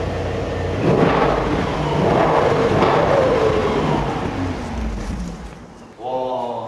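A Mercedes S63 AMG E Performance in Sport Plus mode, engine swelling in two or three deep revving surges before settling, with a voice talking over it near the end.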